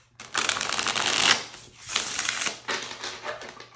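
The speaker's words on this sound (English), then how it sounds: "One more shuffle." Tarot cards are shuffled by hand close up in three crisp, rapid riffling bursts with brief pauses between them.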